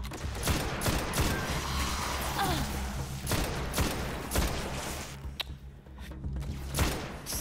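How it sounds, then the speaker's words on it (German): Scout rifle fire in the video game Destiny: repeated gunshot bursts and thumps spread across the clip, loud and dense over a busy game soundscape with no speech. "die Scout-Waffe gefällt mir eigentlich wirklich am besten"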